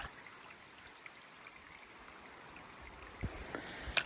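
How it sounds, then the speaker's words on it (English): Water trickles out of soggy soil along a rocky Appalachian Trail section, a faint, steady wash of flowing water with a few soft knocks near the end. "there's still water coming out of the soil"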